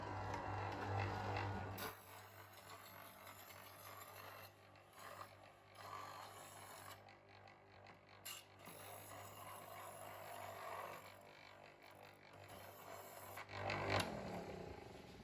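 A serrated knife drawn through stage 3 of a Chef's Choice 1520 electric sharpener: a low motor hum runs at the start, then soft grinding and rasping comes in uneven passes, quiet and close.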